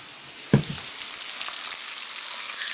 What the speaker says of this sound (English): Listen to the sizzling of that pot.